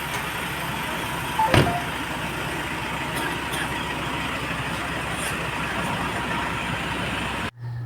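A motorcycle is underway on a ride, its engine droning steadily and loud with wind rumble, a brief knock early on, cutting out abruptly near the end.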